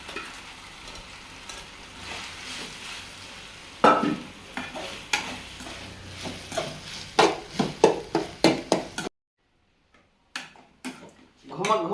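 Prawns frying in a pan with chilli powder and turmeric masala, first as a steady sizzle and then with a string of sharp spatula stirs and scrapes, followed by a brief silence and a few last clinks.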